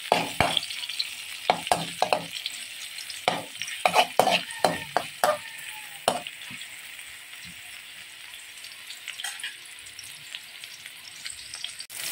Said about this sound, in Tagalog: Yan, nagisa na yung bawang sibuyas.